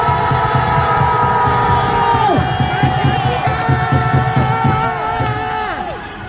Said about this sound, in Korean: 감사합니다. 함성 한번 질러주십시오.